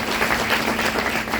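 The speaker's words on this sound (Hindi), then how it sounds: "उनके लिए भी तालियां होनी चाहिए" Applause from a workshop audience in Vadodara, a brief burst of many hands clapping together, moderately loud and pulsing unevenly, with no talking over it.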